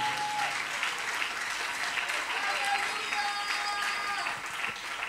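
A church congregation applauds the Lord at a Sunday service, steady sustained clapping from many hands filling the room for the whole stretch, dense and even, with faint voices mixed in.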